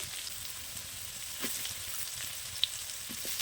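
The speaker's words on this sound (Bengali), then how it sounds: "আলুটা কিন্তু ভাজা ভাজা হয়ে গেছে" Potatoes fry in a pan with salt, giving a steady, soft sizzle with a faint crackle and one sharp pop near the end; no one speaks.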